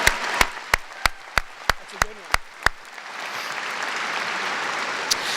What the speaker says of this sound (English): Yeah, let's applaud that.